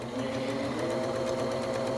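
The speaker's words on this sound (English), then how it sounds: "You can do this on a sewing machine with a zigzag stitch" A sewing machine stitching a zigzag seam on skirt fabric, a steady rapid mechanical whirring and chattering hum that runs continuously and evenly, close up and without talk.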